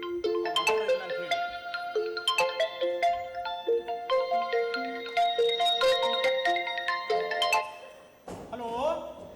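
A mobile phone ringtone plays a bright, repeating electronic melody through most of the clip during a stage play, loud and close, stopping abruptly near the end before a brief different tone.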